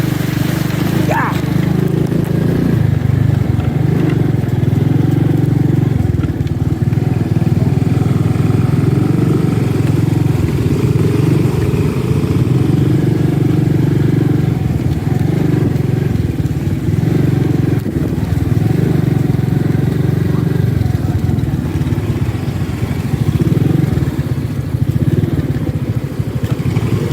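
A scooter engine runs steadily throughout on a mountain ride with a low, droning hum and occasional revs, loud and close, with faint voices now and then.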